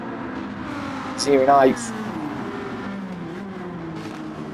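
Racing cars at Suzuka in a video game, including a Lamborghini, whining engines pass in a steady drone, with one car's rising, revving scream standing out briefly under a commentator's talk.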